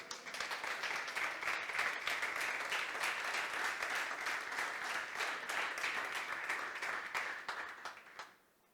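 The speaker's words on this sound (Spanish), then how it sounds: "¿Cuánto le dan un aplauso a Cristo Jesús?" A church congregation claps together in sustained, even applause lasting several seconds, fairly distant and moderate in level, before tapering off sharply at the end.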